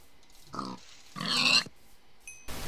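Pigs grunt in a farm scene in a blocky mining video game: two short, clear synthetic grunts a second apart, with a faint pickup chime near the end.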